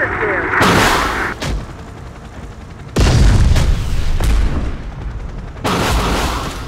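RPG rockets explode in Terminator: Dark Fate - Defiance with heavy booming blasts, a couple of sharp loud impacts followed by rumbling roars that fill the mix, close and dominant, with no voices over them.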